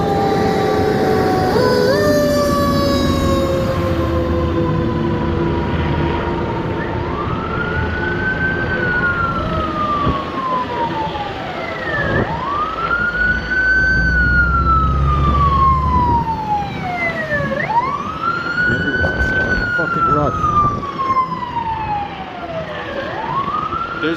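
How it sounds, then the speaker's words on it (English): Multiple wailing emergency vehicle sirens, police and fire engines, rise and fall in repeated sweeping cycles as responders rush to a fire near Venice and Robertson, loud and continuous over a low rumble of traffic and engine noise. "There's got to be at least 24 emergency vehicles going to that site where fire happened."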